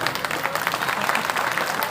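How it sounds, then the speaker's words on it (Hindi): An audience claps in applause at a religious discourse gathering, a dense, steady patter of many hands, fairly close, filling the whole moment. "कम से कम अच्छी बात तो ताली कायदे से बजा दो।"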